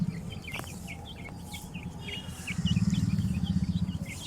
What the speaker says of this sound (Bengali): এখানে 3টি ব্রয়লার মুরগি এবং 9টি সোনালী মুরগি রয়েছে।